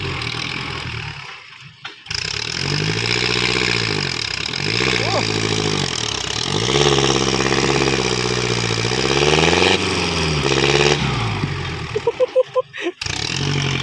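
A motor engine runs loudly nearby, its pitch rising and falling as it revs up and down, then sputters and cuts out near the end.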